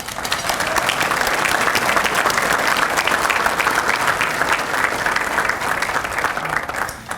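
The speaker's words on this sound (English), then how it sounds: "Can we please give them a round of applause?" A crowd at a Canfield regional chamber morning event applauds, a dense, even wash of many hands clapping loudly and steadily for about seven seconds, with no speech over it.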